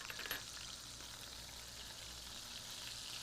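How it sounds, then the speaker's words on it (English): A boneless beef pot roast searing in a heavy soup pot gives a steady, even frying sizzle throughout, with a slight stir or shift near the start and no talking. "We start off by searing a boneless beef pot roast in a heavy soup pot"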